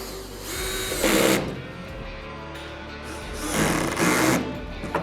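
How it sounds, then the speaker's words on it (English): Two short bursts of a power drill whirring up and stopping, separated by a quieter pause, close and fairly loud. "then come back with your drill"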